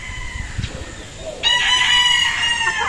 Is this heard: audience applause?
no